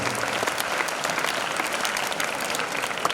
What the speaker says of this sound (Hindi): एक बार उनके सम्मान में ताली बजा दीजिए आप।